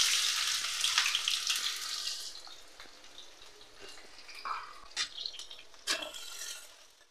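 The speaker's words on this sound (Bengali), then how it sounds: "দিয়ে দিচ্ছি সর্ষের তেল, দিয়ে দিচ্ছি কালো জিরে, পেঁয়াজ কুচিগুলো দিয়ে দিলাম" Chopped onions and black cumin hit hot mustard oil in a heated kadai and fry with a loud, close sizzle that gradually eases, broken by a few sharp clinks and scrapes.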